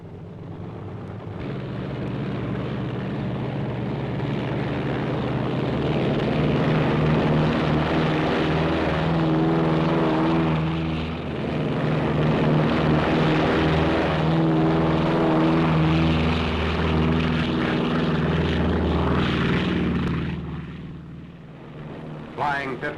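Four-engine B-29 Superfortress bomber "Dauntless Dottie" in 1944 wartime footage, its piston engines and propellers making a loud, steady droning roar that swells and holds for the whole stretch.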